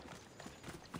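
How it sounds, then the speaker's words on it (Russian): Horse hooves clip-clop in the video game Assassin's Creed Odyssey, a short run of soft, even steps at a steady trot-like rhythm over faint game ambience. "Лошадь возьмем."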